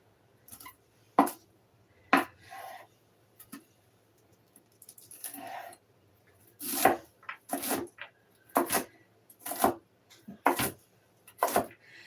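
A knife slices vegetables into thin strips for coleslaw on a cutting board, giving irregular sharp chopping taps, single and in quick bursts, close and clear with no talk.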